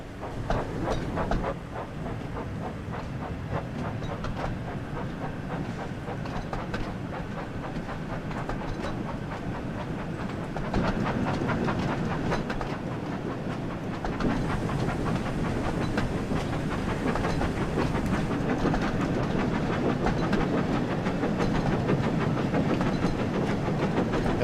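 A train in a video game rolls steadily along, a constant loud rumble and hiss with faint clacking, the tone shifting slightly partway through.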